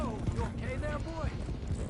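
A loose stallion and other horses in the Red Dead video game, with hooves clattering in a quick clip-clop under a steady bed of noise while voices talk and shout over it.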